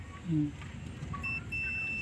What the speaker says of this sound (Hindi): बीप का साउंड आ रहा है